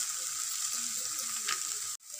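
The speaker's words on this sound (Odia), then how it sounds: "ଏବେ ମୁଁ ଗୋଟେ ମିନିଟ୍ କଷି ନେଉଛି" Tomato and spices sizzle steadily in a hot pan for aloo dum, a bright continuous crackle close by, with a brief stir scrape near the end before a sudden cut.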